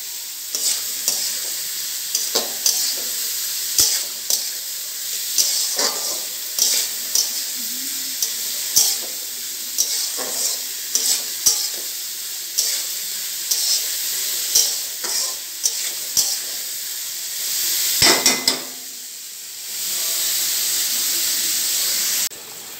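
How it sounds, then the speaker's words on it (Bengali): Mixed vegetables fry and sizzle in a pan for vegetable pasta, a steady close hiss broken by repeated scraping strokes of a spatula stirring, the sizzle swelling into a louder, smoother steam near the end; nobody speaks. "সবজিগুলো ভাজা ভাজা হয়ে গেছে"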